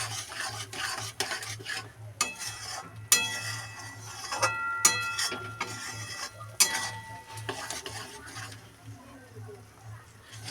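Peas stirred and fried in a pan, with irregular scraping clatter of a spatula against metal over a low sizzle, sharp bursts of stirring spaced across the clip.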